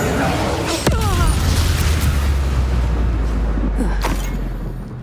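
In the video game Hogwarts Legacy, the Confringo fire spell explodes with a loud, booming blast and a sustained fiery roar, with heavy low rumble and crackle that fades gradually.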